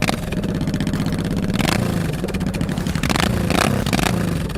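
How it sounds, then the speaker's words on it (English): A 1989 Honda Shadow motorcycle engine idles steadily up close, a loud continuous mid-range rumble with a couple of brief throttle blips raising the pitch, with no talking. "I do ride currently a Honda Shadow"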